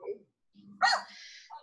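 A single short dog bark sounds close by, with faint voices just before it.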